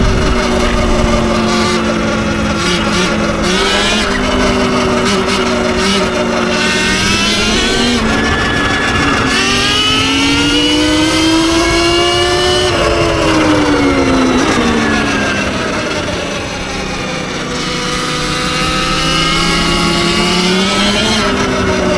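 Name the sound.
Surron electric dirt bike riding at speed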